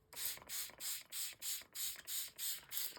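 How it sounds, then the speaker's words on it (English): A handheld water mister sprays onto a painting in a steady run of about nine short, evenly spaced hissing bursts, close and fairly quiet, with no talking. "Bring in my mister."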